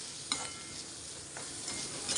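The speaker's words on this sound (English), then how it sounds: "After frying the banana flour for 2 minutes, I'll add the Puliyodare mix powder in this." Banana flower sizzles as it fries in a pan, with soft stirring scrapes and a few sharper clicks over a steady, quiet sizzle.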